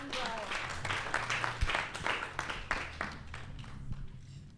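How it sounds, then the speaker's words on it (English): At an evening jazz event, an audience gives Gwen and the panel a round of applause, a moderate, fairly distant patter of clapping that slowly thins toward the end. "Let's give Gwen and the panel a round of applause."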